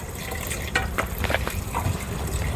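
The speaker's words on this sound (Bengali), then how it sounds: "কাটাকাটি শেষে আমি এখন পেঁয়াজ মরিচ তারপরে চাউল মাংস এইগুলো ভালো করে ধুয়ে নিচ্ছি" Tap water runs steadily while onions, chilies, rice and broiler chicken are washed for biryani, a continuous splashing gush with a few brief louder spurts.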